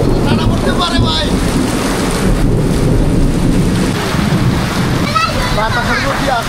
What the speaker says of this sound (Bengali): কত বড় বড় শীল পড়তেছে